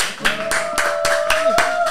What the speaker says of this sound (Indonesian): tepuk tangan sekali lagi buat Dana Maula.